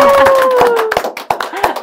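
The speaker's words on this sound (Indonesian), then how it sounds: "Tepuk tangan dong. Tepuk tangan." Scattered hand claps from a small studio audience on an Indonesian talk show, sharp and distinct, coming in irregular bursts beneath a host's voice.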